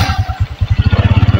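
A Honda Supra 125 motorcycle engine cranks and catches, the loud near pulses quickening into a steady, rapid idle thump within about a second.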